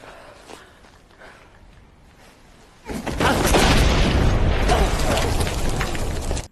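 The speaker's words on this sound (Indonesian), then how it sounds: "granat meledak sebelum Grenvik sempat melemparkannya" A grenade blows up in a war film, a sudden loud broadband blast at about three seconds that rolls into a sustained roaring rumble of debris and fire lasting to the end, after a quieter stretch of mechanical background.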